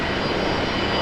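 An airplane takes off at Brisbane Airport with its landing gear retracting, a close, loud, steady engine roar filling the moment.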